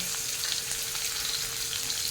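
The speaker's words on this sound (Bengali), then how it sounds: "নাড়িয়ে ছাড়িয়ে রসুনটাকে একটু ভাজা করে নেব।" Crushed garlic halves and split green chillies fry in hot oil, making a steady, even sizzle that holds throughout the short stretch, close and moderately loud.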